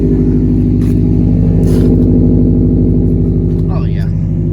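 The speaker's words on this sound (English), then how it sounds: "Gotta let the car warm up. She sounds perfect." A car idling while it warms up before a car meet, a steady loud engine drone with even low harmonics running throughout, with faint voices in the background.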